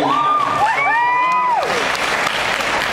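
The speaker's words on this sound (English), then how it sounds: "I love how the applause is getting less and less." Loud applause and cheering from a theatre crowd at a live Ghost Hunters show at the Royal Oak Music Theatre, topped early by a shrill rising and falling whistle before the clapping settles into a steady roar.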